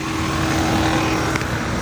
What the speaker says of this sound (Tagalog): inandar ko na rin ang aking sasakyan